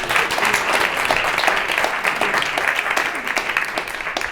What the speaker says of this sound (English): Everyone's gonna clap. Clap, clap, clap, clap, clap.